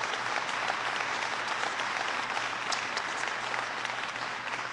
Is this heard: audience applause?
yes